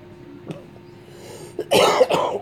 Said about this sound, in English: I'm still coughing, as you can tell.